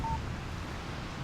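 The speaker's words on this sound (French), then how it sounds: "Un SMS de Barry" A short, clean electronic tone rings once at the start, a text message notification in the video game Alan Wake, then fades into a soft background hiss.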